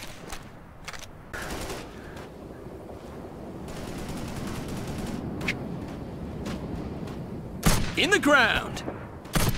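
Gunfire in the Operation Flashpoint Red River video game: scattered distant shots over a rumbling background, then a louder, closer burst of rapid fire near the end, with a brief spoken line.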